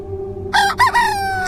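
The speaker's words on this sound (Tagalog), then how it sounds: "Kasabay ng pagtilaok ng manok" A rooster crows once, loud and near, its call rising then trailing off in a drawn-out tail over a low steady hum.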